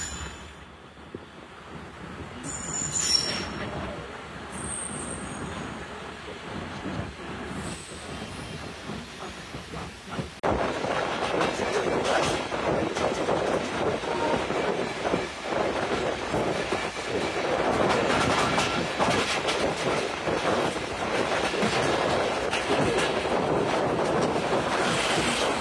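A Surma Mail train heading for Dhaka passes close by near the temporary Banani rail station, a rising, steady rumble and clatter with wind noise that grows loud and holds for over half the stretch.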